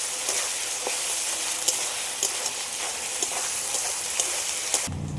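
Spices being sautéed in a pan for pepper chicken crackle with a loud, continuous sizzle and scattered pops, ending in a brief low hum.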